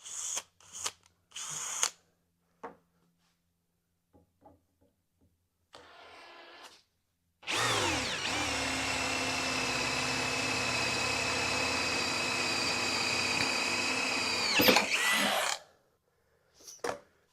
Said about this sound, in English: Quickly drill a 1/4 inch hole in 1/4 inch steel with no problem.